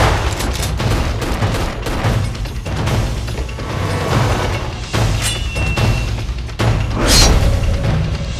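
Dense gunfire from a horror movie trailer, a loud, continuous barrage of overlapping shots and booms with sharp cracks and heavy crashing impacts throughout, with no clear talking.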